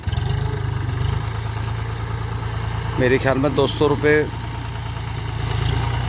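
Small farm dumper engine idling with a steady low throb close by, briefly louder at the start and end, while someone talks over it in the middle.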